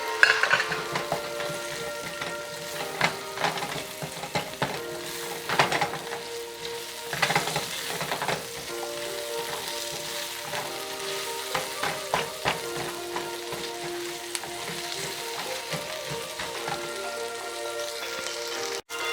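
Garlic and onions frying in a pot for a Mediterranean chicken thigh casserole, a steady loud sizzle with crackling pops and occasional stirring scrapes, continuous and close with no talk.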